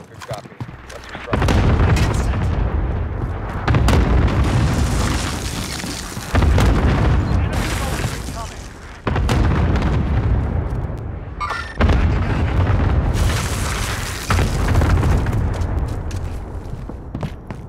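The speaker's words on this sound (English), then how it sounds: "Airstrike." Heavy airstrike explosions in Call of Duty: Modern Warfare gameplay, with repeated loud booming blasts and rumbling bursts mixed with game voice chatter.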